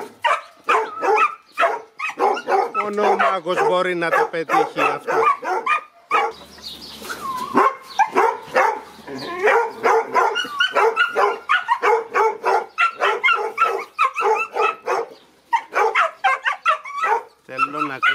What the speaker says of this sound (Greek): Βλέπεις πως αρχίζει να γαβγίζει και το δικό